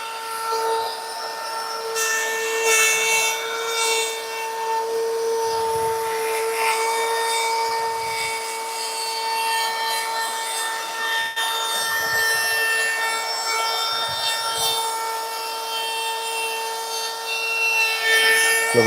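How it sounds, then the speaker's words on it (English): A router cuts steadily into a wood surface on a shop mini chopper bike project, giving a continuous close, loud grinding whine with a few slight dips over the whole stretch. "So the router is reading the surface of the wood, not the plastic."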